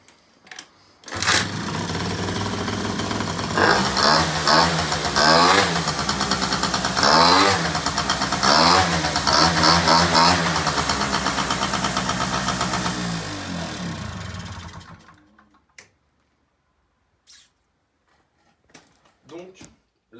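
A small motorbike engine idles near the microphone, then revs up repeatedly in rising and falling bursts before cutting off, leaving faint ambient noise.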